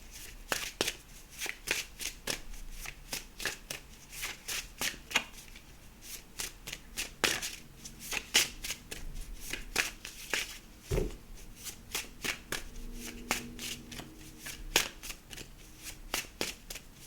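An oracle card deck is shuffled continuously, giving crisp, rapid riffles and soft card slaps close by in uneven bursts, with a faint background hum in the later part.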